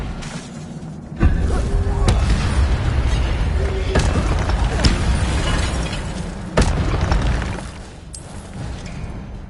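Fire spells cast in the Hogwarts Legacy video game: a run of loud booming blasts and crackling bursts with sharp onsets, spaced a second or two apart over a dense, rumbling magical combat background.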